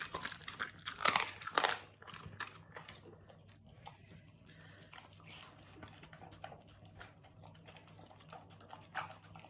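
An English Springer Spaniel crunches and chews on partly frozen raw chicken back, with loud bursts of crunching at first, then quieter steady chewing close by.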